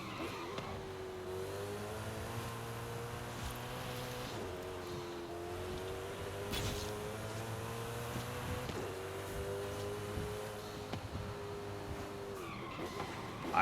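A car driving at speed in Forza Horizon 5, its engine droning steadily with the pitch climbing and dropping through gear shifts, quiet and continuous with no one speaking.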